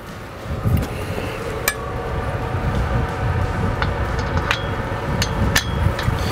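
Metal locking pins being hammered into the coupling between a Weedoo work boat and its dredge attachment, giving several sharp metallic clanks spaced irregularly over a steady engine or hydraulic rumble.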